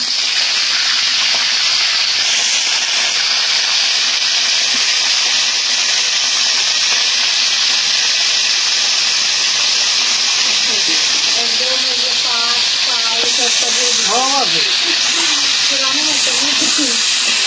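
Chicken pieces frying in hot oil over high heat for a yogurt chicken dish, a loud continuous sizzling hiss that carries steadily throughout, with faint kitchen clatter and brief voices near the end.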